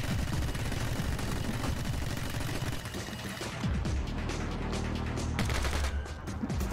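Rapid gunfire in the action game My Friend Pedro, dense bursts of shots cracking continuously over game music and effects, loud and busy throughout.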